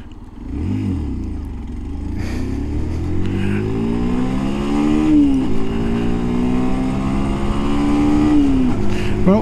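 A SYM NHT 125 motorcycle accelerates on the road, its engine note climbing steadily through the gears with brief dips at shifts, loud and close throughout with no one talking.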